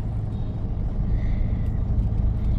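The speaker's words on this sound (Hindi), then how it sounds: "यहाँ पे भी ट्रैफिक होता है गाइस" Dense road traffic on a busy street, heard as a steady, loud low rumble of engines and tyres with no distinct horns or voices standing out.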